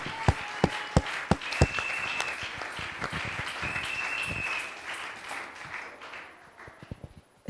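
A church congregation applauding, opening with a few loud separate claps that swell into sustained group clapping, then thinning out to scattered claps at the end, with a faint voice mixed in.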